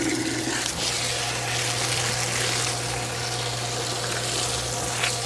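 Well water splashing steadily around the sides of a feed bucket on a ranch, washing down its edges, a constant close rush over a low pump hum.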